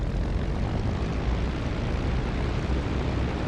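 Spitfire IX piston engine from DCS World's Normandy map roars steadily and loudly up close, a dense, unbroken propeller drone with no pauses.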